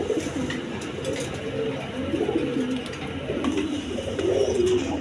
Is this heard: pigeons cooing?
yes